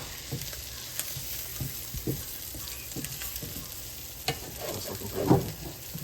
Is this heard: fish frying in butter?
yes